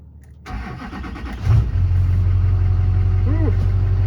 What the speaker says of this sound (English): Let's do a cold start.